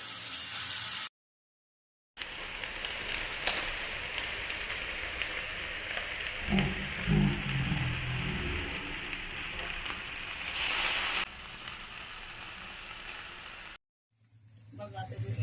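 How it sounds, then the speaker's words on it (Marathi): Cauliflower and potato bhaji sautés in oil in a pan, giving a steady broadband sizzle broken by short silent gaps near the start and end, with louder stirring and scraping noises in the middle. "आता हिला चांगला एक थोडासा चटका बसेपर्यंत या भाजीला मी परतून घेते"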